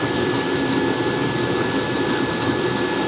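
A Zacme 7.4-quart stand mixer motor drones loudly and steadily while churning thick oatmeal raisin cookie dough, an unbroken whirring roar with no pauses.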